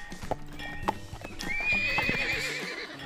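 Horses in the zoo-management game Wildlife Park 2: clip-clop hoofbeats thudding under a long, high whinny that rises and trails off, with another neigh close by.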